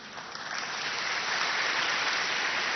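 Audience applause in a spiritual talk hall, a dense continuous wash of clapping that swells in the first half-second and then holds steady and fairly loud throughout, with no voices over it.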